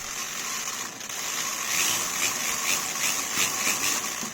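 A repaired Scalextric slot car runs on its track, a steady high-pitched electric motor whine with a light buzzing rattle, close and fairly quiet, with no talking.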